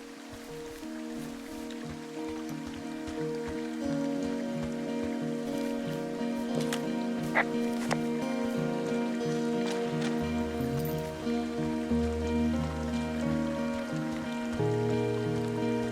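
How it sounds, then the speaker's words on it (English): Steady rushing water from a waterfall and stream in the forest game Firewatch, a continuous close wash of splashing with a low rumble joining partway through, no voices. "It's a really nice waterfall down here"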